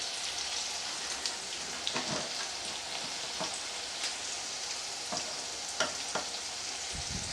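Onions frying in a pan with salt and turmeric for a Bengali chicken curry with potatoes, giving a steady close sizzle with occasional stirring clicks and scrapes throughout.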